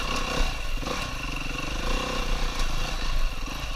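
A 4-stroke dirt bike engine drones loud and close on a single-track trail ride, its uneven throttle rising and falling with rattling mechanical clatter and no talk.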